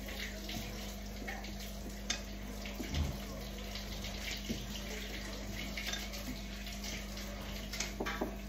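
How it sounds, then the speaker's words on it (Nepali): Water runs from a tap in a steady, quiet stream, with a constant low hum behind it and a few soft knocks and clicks. "पानी आयो।"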